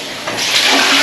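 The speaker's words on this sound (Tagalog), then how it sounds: "Ayan yung tubig na pure, dito ko siya tinapon" Water poured into a toilet in an unfinished bathroom, a loud close rush and gurgle that swells after a moment and keeps flowing steadily.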